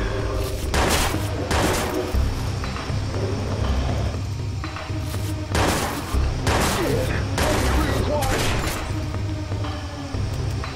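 Gunfire in Watch Dogs: repeated bursts of loud shots and booms crackle through the scene over an engine rumble, with shouted voices in between.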